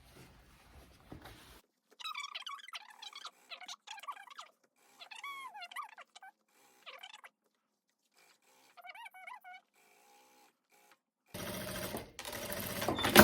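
A domestic sewing machine runs a straight seam along faux leather for a midi skirt in short, stop-start bursts, close and fairly quiet, with a louder burst near the end.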